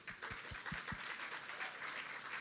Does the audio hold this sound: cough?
no